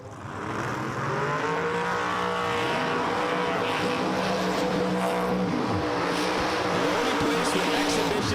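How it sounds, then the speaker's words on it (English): A supercharged 1963 Chevrolet Nova roars at a drag strip, its engine blaring loud and continuous as it revs and accelerates at close range, drowning out everything else. "He's driving the 63 Supercharged Nova."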